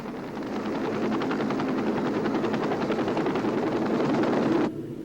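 A military helicopter passes overhead during the Vietnam War, heard as a loud, steady rotor chop with rapid rhythmic blade thumps for about five seconds before it cuts off abruptly.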